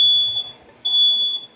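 An oversensitive kitchen smoke alarm set off by cooking a roast sounds two long, loud, high-pitched electronic beeps separated by a short gap.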